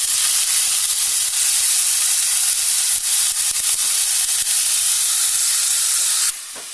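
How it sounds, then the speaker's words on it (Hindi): Ground onion frying in hot oil in a pan, a loud, steady sizzling hiss that runs without a break and then drops off sharply near the end. "इसमें हम जो पिसी हुई प्याज है वो डाल देंगे।"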